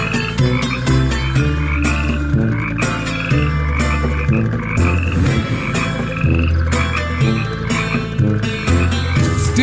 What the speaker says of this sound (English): So God sent out frogs in plague number 2.